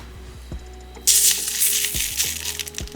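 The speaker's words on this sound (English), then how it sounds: "I can pour some of the sugar on." Granular sugar pours onto pan de muerto bread in a steady hissing stream, starting abruptly and continuing with a soft scattering rustle, preceded by a few faint clinks.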